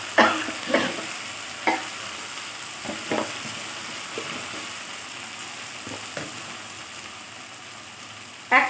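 Dal frying in a pan as cumin powder goes in, a steady soft sizzle under repeated scraping stirs of a spoon against the pan, the strokes coming irregularly and fairly close.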